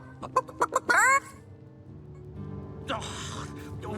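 Chickens cluck in Divinity: Original Sin 2, a run of short, close clucks ending in a louder squawk, followed by softer game ambience and faint background voices.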